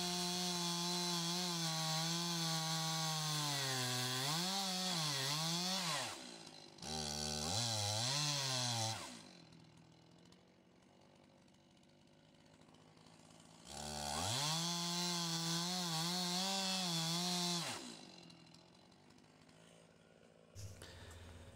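A gas chainsaw bucks roadside wood into firewood rounds, snarling loudly at full throttle through two long cuts with a brief lull between, then dropping to a low idle. No one speaks.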